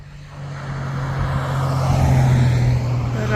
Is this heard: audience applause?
no